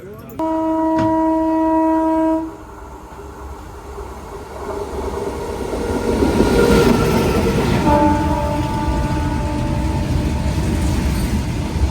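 Netravati Express sleeper train (LTT to Tiruvananthapuram Central) pulling away from Aravalli Road station on a single line: a steady horn blast opens, then a low rumble of moving carriages builds and rolls on, with another horn tone later.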